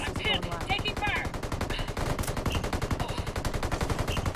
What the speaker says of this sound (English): Shit, I'm pinned. Taking fire.